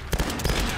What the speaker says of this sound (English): She's shooting at us.